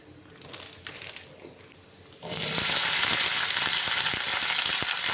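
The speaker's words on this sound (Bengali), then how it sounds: "সাদা তেল দিয়েই ভেন্ডি ভাজা করছি" Okra (bhindi) frying in white oil in a kadai, with quiet stirring and clicks, then a sudden loud, steady, broadband sizzle that fills the rest of the clip, close and continuous.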